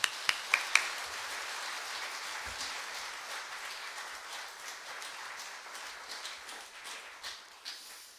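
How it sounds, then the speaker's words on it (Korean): Church congregation applauding to welcome a missionary at a Sunday worship service, a few sharp opening claps swelling into sustained, fairly quiet crowd clapping that slowly thins out. "우리 선교사님 나오실 때 뜨거운 박수로 맞아주시면 고맙겠습니다"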